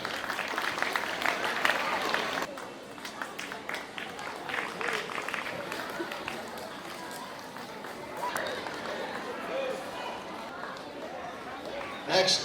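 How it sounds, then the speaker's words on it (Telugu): Audience applause at a school award ceremony honouring talented students, with teachers and pupils present; a dense burst of clapping rings out for a couple of seconds, then thins into crowd murmur and talking. "చప్పట్లు."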